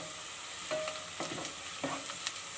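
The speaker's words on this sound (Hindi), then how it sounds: "प्याज को हमें हल्का सा लाइट ब्राउन करना है, बिल्कुल थोड़ा सा।" Onions fry in a pan with a soft, steady sizzle as a spoon stirs and scrapes them in a few distinct strokes, close and fairly quiet, with no talking.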